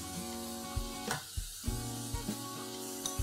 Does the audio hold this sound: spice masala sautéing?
yes